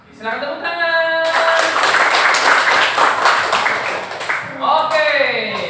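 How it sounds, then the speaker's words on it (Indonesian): Audience applause from a group, a sustained burst of clapping lasting several seconds, with a spoken voice before and after it. "Silakan tepuk tangan."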